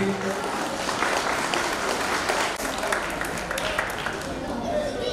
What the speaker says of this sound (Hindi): जोरदार तालियों से सर का अभिनंदन कीजिए।